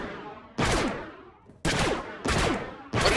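Blaster fire in Star Wars: The Old Republic: four loud, sharp volleys of shots, each starting abruptly and trailing off, close and dominant with no talk.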